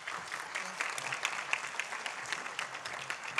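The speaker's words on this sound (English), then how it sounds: "Let's give her a big round of applause." Audience at a county board of supervisors meeting applauding, a continuous wash of many hands clapping at moderate distance, steady throughout with faint crowd murmur beneath.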